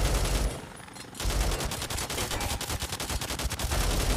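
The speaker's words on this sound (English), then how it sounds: "Use the machine gun and turrets in the back!" Rapid automatic machine-gun turret fire in the post-apocalyptic game Fallout: The Frontier, a dense loud burst of repeated shots that breaks off briefly and then resumes as a steady rattling stream.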